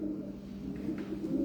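A pigeon coos softly in low, rolling notes, faint and steady against quiet background noise.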